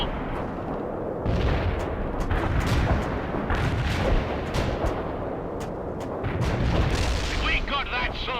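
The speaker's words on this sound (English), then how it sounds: "Loading an anti-personnel round. Fire a frag!" A BMP-2 firing anti-personnel frag rounds in World in Conflict, heavy booming shots and blasts rolling out at intervals amid battle noise, with voices talking over them.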